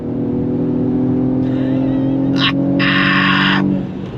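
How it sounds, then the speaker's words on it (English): A 2023 Mercedes-AMG GLE 53 SUV with a turbocharged straight-six accelerating hard, heard from inside the cabin as a steady, rising engine drone with brief higher whooshing bursts toward the end. "the way that turbocharged straight 6 builds power, it's quite substantial"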